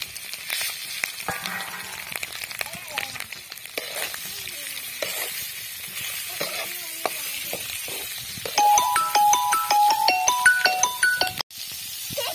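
Pieces of meat sizzle and fry in a pan with a little turmeric, a steady close crackle with scraping stirs, and a brief electronic ringtone chiming in near the end.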